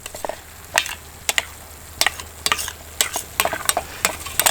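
Hamburger meat frying in a Pathfinder folding skillet over a camp stove, a steady sizzle broken by repeated sharp scraping and stirring strokes of a utensil against the pan, close and alone.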